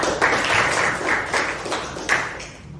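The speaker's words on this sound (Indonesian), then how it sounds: "Tepuk tangan untuk Naila" A classroom claps for a student, a short burst of many hands beating in uneven pulses that swell and fade over about three seconds, fairly close and with no talking.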